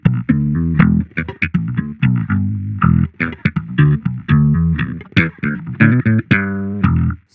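Guitar run through an Axe-Fx III emulating slap bass, with punchy, percussive plucked notes in a busy rhythmic line, loud and close, played alone without talk.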